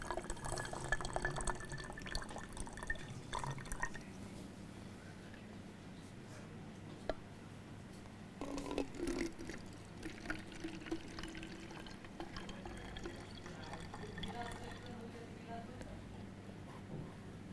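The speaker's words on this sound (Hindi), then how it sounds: "सबसे पहले ये जो हल्का गर्म चीनी का घोल है, दोनों बोतलों में बराबर बराबर मात्रा में हम लोग इसमें दोनों बोतल में डालेंगे।" Lukewarm sugar solution is poured into two bottles with trickling and dripping, in separate pours with pauses between them, while a voice talks over it.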